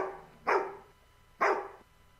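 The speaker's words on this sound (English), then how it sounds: "You can hear the doggy back there." A dog barks twice in the background, two sharp, evenly spaced barks about a second apart, moderately distant and otherwise quiet.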